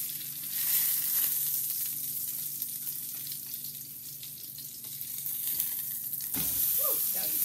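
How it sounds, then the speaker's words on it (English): Salmon sizzles steadily in a hot pan, a constant crackling hiss with a brief clatter near the end. "my salmon has that right sizzle that I need"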